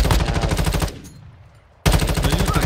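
A light machine gun in Warzone Mobile fires two loud, rapid bursts of rattling shots, separated by a brief quiet gap.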